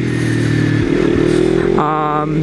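A motorcycle engine idles loudly up close, its exhaust, shortened by about six inches, rumbling and revving briefly with a rough, throaty tone.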